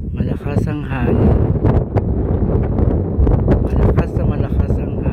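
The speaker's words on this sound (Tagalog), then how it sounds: "As in, malakas ang hangin." Strong wind buffets the microphone outdoors, a loud continuous rumble and rustle that persists throughout, with a person talking over it.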